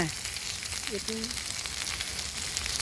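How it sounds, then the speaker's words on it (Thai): A cheese meatball basil stir-fry sizzles steadily in a hot pan while being stirred, constant frying hiss with a few faint clinks, close and continuous. "ก็คนคนมันให้เข้ากันจ้ะ"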